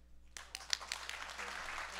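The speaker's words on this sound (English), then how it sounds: "You're supposed to clap." Scattered audience applause at an HVAC training session on refrigerant press fittings, starting suddenly after a short quiet moment, fairly faint and thin with a few louder individual claps standing out.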